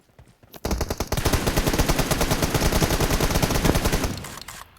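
Sustained automatic gunfire from the PUBG Mobile battle royale game rattles in a rapid, loud burst of many shots lasting around three seconds, then cuts off abruptly.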